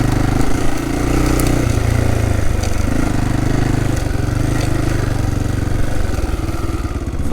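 Motorcycle riding a sandy rut on a rural dirt road in Cambodia, its engine droning loud and continuous with rattling and wind noise throughout.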